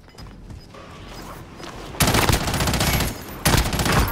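Gunfire in Warzone Rebirth: dense, loud automatic fire comes in two heavy bursts after a quieter stretch, with rapid shots stacked over each other.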